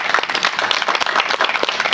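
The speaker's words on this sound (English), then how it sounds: "if we could just please give her a round of applause" Audience applause at an indoor Q&A event, a dense, lively patter of many hands clapping close by and fairly loud, continuing steadily for the whole two seconds.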